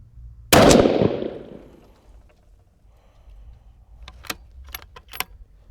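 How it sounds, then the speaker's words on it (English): A single loud, sharp crack from a 6mm Creedmoor rifle fired at a 200-yard target, decaying in a short outdoor echo, followed by faint clinks and jingles of handled gear. "getting ready for the last shot here"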